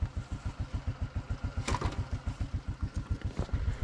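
A tractor with no brakes chugging toward an opened gate, its engine beating in a fast, even rhythm of deep pulses throughout, with a brief clatter partway through.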